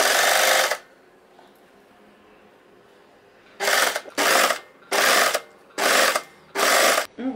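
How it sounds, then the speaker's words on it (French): An overlock serger stitching fabric at an 8 mm seam width, one long loud run, a pause, then five short evenly spaced bursts of rapid mechanical whirring. "Ma surjeteuse va piquer sur 8 mm."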